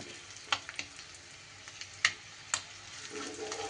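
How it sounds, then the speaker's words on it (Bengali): Egg pieces fry in a pan for a Bengali egg dish, giving a low, steady sizzle broken by a few sharp, scattered pops and crackles, close up with no talking. "এদিকে ডিমের টুকরোগুলোও কিন্তু বেশ উল্টে পাল্টে ভাজা আমার হয়ে গেছে।"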